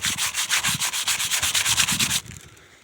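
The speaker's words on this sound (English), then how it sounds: "And then maybe sand it down to get it nice and smooth." Filler on a hail-damaged external window frame is sanded by hand in about fifteen quick, even back-and-forth strokes. The rasping is close and loud, then stops abruptly, leaving a faint room hush.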